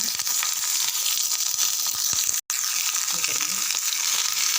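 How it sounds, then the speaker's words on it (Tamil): Fish kuzhambu ingredients sautéing in a pan, a steady close sizzle and crackle running throughout with faint stirring scrapes and a momentary dropout midway. "ஒரு 3 நிமிஷம் நல்லா வதங்கட்டும்."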